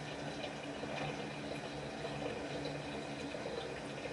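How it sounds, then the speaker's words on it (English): Toilet tank refilling with water after a flush, a steady, even rush and hiss of running water that holds at a constant level throughout, fairly quiet and close by. "the water drains out from your water supply, and then it will fill the tank with water to be used on the next flush."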